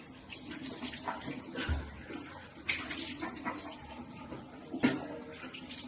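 Water runs from a shower in a home bathroom, a continuous hissing spray with small splashy fluctuations and a couple of louder thuds, steady and fairly close for the whole stretch.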